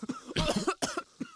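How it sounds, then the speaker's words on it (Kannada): Harsh, repeated coughing from a man choking on pungent chili fumes while tempering spices in a home kitchen, several close, rough bursts in quick succession with no talk. "ಮೆಣಸಿನ್ಕಾಯಿ ಆಗಿರೋದಕ್ಕೆ ಜಸ್ಟ್ ಕೆಮ್ಮು ಬಂದಿರೋದು"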